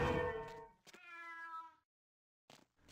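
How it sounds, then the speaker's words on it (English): A cat in the video game Vampire Bloodlines lets out a long, drawn-out meow followed by a second tonal yowl, then a short faint sound after a pause, close and alone. "That's an impressive cat."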